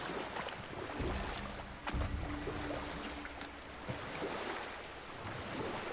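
Sea water washes around a boat on the open sea in the God of War video game, with a steady soft surge of waves and wind and an occasional thud, fairly faint and continuous with no talk.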